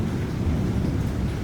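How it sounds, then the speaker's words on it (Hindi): Thunder rumbles steadily through rain at a jungle campsite, a dense, continuous low roar of storm and falling water close around, with no talk. "बादलों की आवाज़ देखिए भाई,"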